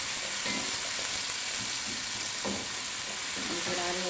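Onion gently sautéing in a pan gives a constant soft sizzle and hiss, with occasional stirring scrapes over it at close range.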